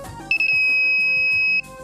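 A tilt-triggered anti-drowsiness alarm worn on the head sounds a loud, continuous high-pitched electronic beep that starts with a couple of stutters and holds for over a second before cutting off.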